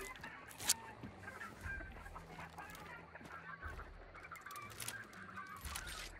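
Chickens in the video game Hunt: Showdown cluck and squawk faintly amid quiet background ambience, with one sharper burst near the start.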